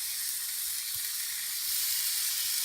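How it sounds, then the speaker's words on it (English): Pieces of skinless jewfish sizzle steadily in a frying pan, a soft continuous hiss of frying with no talk over it. "So when you place it down, it should be sizzling"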